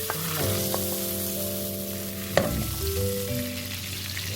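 Butter sizzles in a hot pan while ube halaya is being made, a steady close fizz over a low tonal hum, with one sharp clack partway through and no talking.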